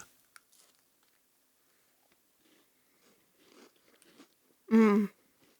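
Someone chews a crisp caramel, toasted coconut and chocolate Girl Scout cookie, with faint, scattered close mouth crunches followed by a short voiced hum of enjoyment near the end.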